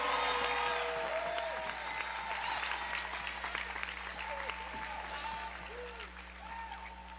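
A crowd claps for a women's tennis team at an awards event, sustained applause with scattered cheers and whoops, loud and close, fading slightly toward the end.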